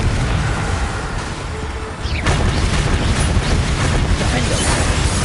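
Confringo spell blast in Hogwarts Legacy, a loud boom landing partway through, followed by crackling debris and a rumbling game soundscape, with a voice calling out beneath the action.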